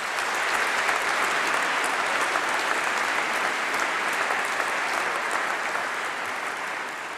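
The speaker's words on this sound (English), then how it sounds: "they deserve a huge round of applause" Steady, full applause from a large audience at a university winter graduation ceremony for international students, a dense continuous roar of clapping hands that holds level throughout and eases slightly at the end.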